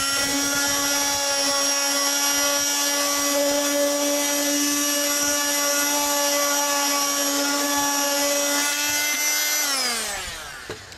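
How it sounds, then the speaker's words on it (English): A small handheld power sander runs steadily on a bass amp cabinet, a loud sustained whine with a strong hum that holds for about ten seconds, then winds down as the motor switches off. "I've got my trusty sander."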